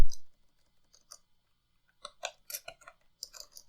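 Sparse, dry clicks of keys on a computer keyboard, typed in short irregular bursts close by, with quiet gaps between the keystrokes.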